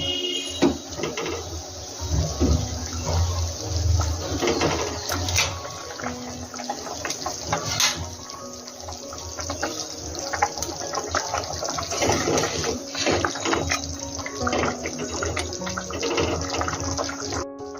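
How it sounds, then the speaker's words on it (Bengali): Brinjal and hilsa curry gravy bubbling in a pan, a steady wet simmering hiss with small pops and kitchen clatter throughout, close and continuous with no talk. "বন্ধুরা, ঝোলটা কিন্তু ফুটে উঠেছে।"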